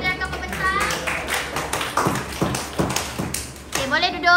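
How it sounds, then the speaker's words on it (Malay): Students clapping in a classroom for classmates who just presented: a scattered, uneven round of hand claps and taps mixed with chatter and voices, fading briefly before talk resumes. "Okey, berikan tepukan tangan kepada rakan pembentang."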